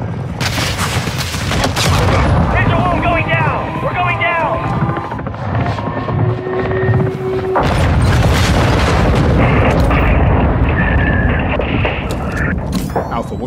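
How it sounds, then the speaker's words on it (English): Missile explosions, helicopter rotor noise and gunfire in Call of Duty Modern Warfare II, loud booms and rapid shots over a constant aircraft drone, with shouted voices throughout. "Second missile!"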